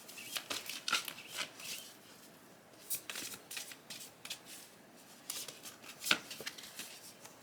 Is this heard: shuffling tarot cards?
yes